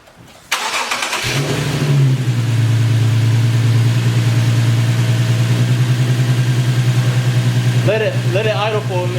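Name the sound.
Infiniti Q60 engine idling with Takeda cold air intake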